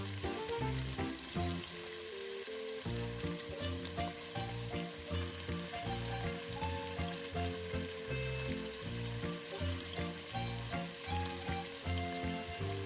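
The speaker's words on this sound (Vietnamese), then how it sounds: "Sau khi dầu đã sôi nóng rồi thì bắt đầu mình bỏ nuôi vào để chiên." Macaroni frying in hot oil, a steady dense sizzle and crackle heard close up, continuous throughout with faint stirring and no talk.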